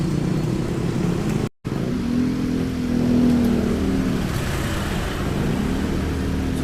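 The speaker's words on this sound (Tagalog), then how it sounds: "So traffic ayan dito sa may Pansol dahil Holy Week." Slow holiday road traffic of cars and motorcycles in Pansol, Laguna, a steady low engine rumble with a car revving nearby, broken by a brief cut to silence.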